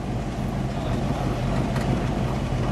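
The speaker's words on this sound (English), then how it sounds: "Let me stand behind it, listen to it idle." A 1956 Ford Fairlane Crown Victoria idles steadily close by, a constant low rumble heard from behind the car with no speech over it.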